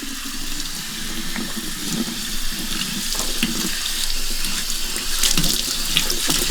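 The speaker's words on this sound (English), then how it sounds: "Now you rinse the vinegar off." A kitchen tap runs steadily into a sink, rinsing white vinegar off; a loud, continuous splashing wash of water, close by, with no voices.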